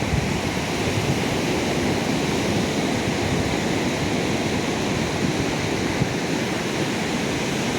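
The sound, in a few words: sea waves at Suryalanka beach, Bapatla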